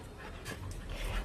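A dog panting close by, quick breathy huffs in a short continuous run with no voices.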